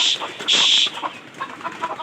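A chicken clucks nearby among caged pigeons, with a couple of sharp, loud squawks followed by softer, irregular low clucks.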